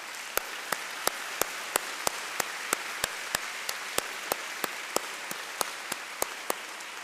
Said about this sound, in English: They deserve really a big applause.